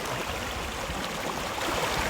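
A Scottish river runs over bedrock with a small drop-off and heavier boulders nearby, giving a continuous broad rushing and burbling wash that stays steady and fairly close throughout.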